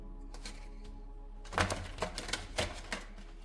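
A deck of large tarot cards shuffled by hand gives bursts of crisp papery riffling and slapping. The bursts come close and fairly loud after a quiet opening.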